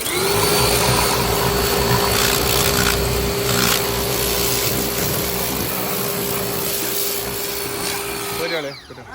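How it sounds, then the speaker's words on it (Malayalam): Steady, loud pressure-washer hiss with a constant motor-pump whine as water blasts the painted body of a modified Maruti Zen car, running continuously for most of the stretch before cutting off near the end. "ഇപ്പോൾ പ്രഷർ വാഷ് ഇട്ട് അടിച്ചു കഴിഞ്ഞാൽ ഈ പരിച്ച പെയിൻറ്റ് പോകുന്നുള്ളത് നോക്കുക"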